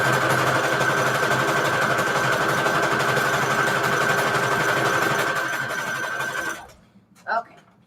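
A sewing machine runs steadily, stitching fabric strips onto a piece of scrap fabric, a loud continuous whirring hum that stops abruptly near the end, followed by a brief soft rustle.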